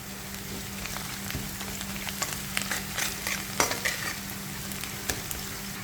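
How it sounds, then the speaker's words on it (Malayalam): Fennel seeds and turmeric sauté in a pan, a continuous soft sizzle broken by scattered scraping and clicking as a spoon stirs, close and fairly quiet, with no talk. "നന്നായിട്ട് ഇതിനെ ഒന്ന് വഴട്ടിയെടുക്കണം നമുക്ക്"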